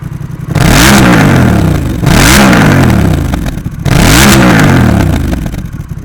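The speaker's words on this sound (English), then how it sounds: "Now let's blast it, see what it sounds like." A 2021 Honda Rebel 1100 motorcycle fitted with a Coffman's Thunder exhaust is blipped loudly three times, each sharp rev climbing and falling back to a rumbling idle, close by and outdoors.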